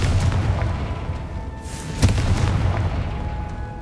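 A Confringo blasting spell goes off in Hogwarts Legacy, a single loud boom with a sharp crack near the two-second mark, set against a dense, rumbling game soundscape that continues throughout.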